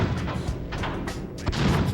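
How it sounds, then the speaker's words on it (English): A cannon fires in a PS1 video game, throwing out a rapid string of booming, crunchy blasts that land close and loud, one after another with no pause. "we have a machine gun. Well, it's called a cannon"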